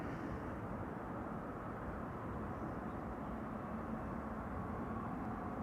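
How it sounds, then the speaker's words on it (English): A Lufthansa Airbus A319 in Star Alliance livery, arriving from Frankfurt at Amsterdam Schiphol, produces a steady broadband jet roar. The rumble holds constant and fairly distant for the whole stretch, and no voices are heard. "This is Lufthansa in the Star Alliance livery, an A319 returning from Frankfurt."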